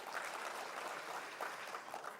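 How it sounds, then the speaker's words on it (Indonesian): Audience applause at the launch of Indonesia City Expo 2023 in Makassar, a steady, fairly faint patter of many hands clapping with no voices over it. "Tepuk tangan untuk Apexi."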